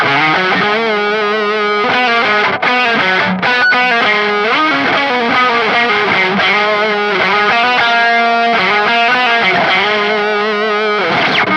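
An electric guitar plays a continuous riff through a budget delay pedal on its warm setting, repeating echoes trailing each note, a warm, slightly driven tone, steady and loud with no voices.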